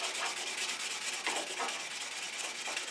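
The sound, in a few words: sanding an HSS scraper edge with 150 grit sandpaper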